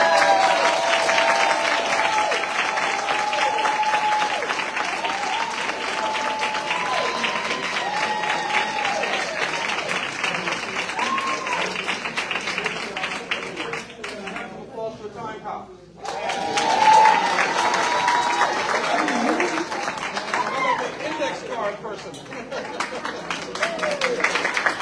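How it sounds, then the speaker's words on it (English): Sustained audience applause at a Prince George's County District 9 candidate forum, dense clapping running nearly continuously with a brief dip in the middle before resuming, with some crowd voices mixed in. "now would be the time to share your applause"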